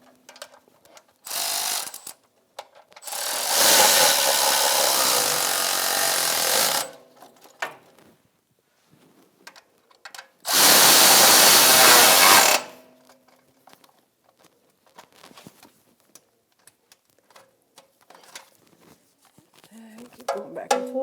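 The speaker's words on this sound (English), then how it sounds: "I have my 15mm socket, and I am going to go back and forth and snug my mounting bolts up." A 15mm socket ratchet snugs the oil pan mounting bolts on a 1998-2011 Ford Ranger 3.0L V6, heard as two long, loud bursts of rapid back-and-forth clicking, with quieter scattered workshop handling sounds between them.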